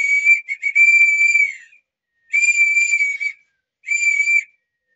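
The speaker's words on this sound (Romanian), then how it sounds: "are un fluier care e chiar anume pentru porumbei" Three bursts of shrill, steady whistling from a pigeon whistle, a long one followed by two shorter blasts, loud and close with brief silences between.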